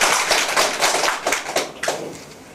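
Welcoming applause from attendees at a Korean regional Saemaul association meeting, scattered fairly close hand claps that swell and ebb, then pick up again near the end, with no talking.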